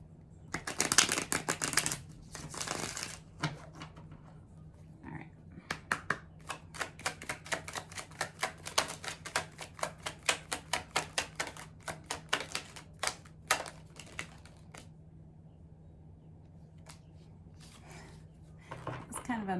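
A deck of oracle cards is shuffled in loose, uneven bursts: rapid papery flutters and riffles, then a long run of separate crisp slaps and taps that thin out toward the end, close up with a faint hum underneath.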